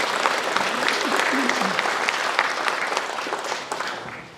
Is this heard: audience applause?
yes